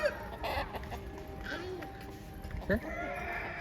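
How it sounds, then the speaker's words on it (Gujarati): Roosters crow at the Bahuchar Mata temple in Toda, Mehsana. A few short, rising crows sound at moderate distance over a steady crowd murmur and background voices. "સીધા તમને કુકડા દેખાય તો બોલ્યા"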